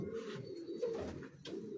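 A pigeon coos softly on a rooftop loft in low, rolling phrases, close by, with a faint background hum.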